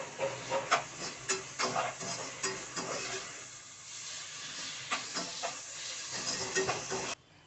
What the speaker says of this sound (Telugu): పచ్చివాసన పోయే వరకు చక్కగా ఫ్రై చేసుకోండి.